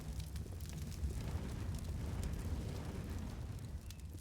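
Stacked grenades go off in Counter-Strike during a HAVU versus MOUZ NXT match, a steady, fiery rumble of overlapping blasts with crackly detail, moderately quiet and continuous throughout.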